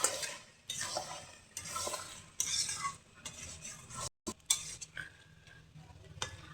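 Fried potatoes, garlic and meat being stirred in a pan, with scraping spoon strokes and clinks of metal against the pan over a soft sizzle, close and fairly quiet, coming in irregular bursts with a brief gap.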